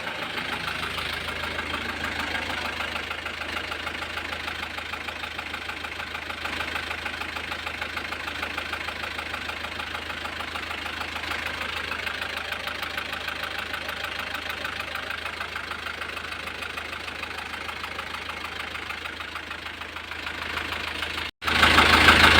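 A car engine idles with a steady, rhythmic knocking from inside the motor, loud and continuous throughout, ending with a brief sharp break.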